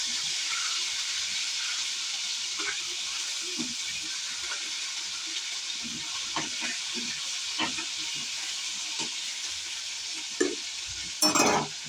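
Fish frying in a pan, a steady sizzle and hiss held throughout with scattered soft stirring scrapes and a louder clatter near the end.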